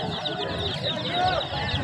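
Rhode Island Red chickens cluck and chatter continuously at a Sunday market in Ahmedabad, India, with many overlapping bird calls close by.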